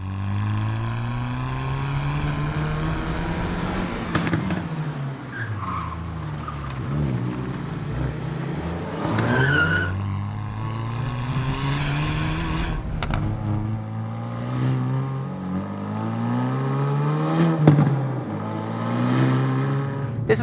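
Hyundai i30 Fastback N driven hard on a road, engine note rising and falling through the gears with automatic rev-match throttle blips on downchanges, loud and close from inside the car.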